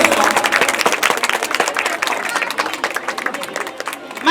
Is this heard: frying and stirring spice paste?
no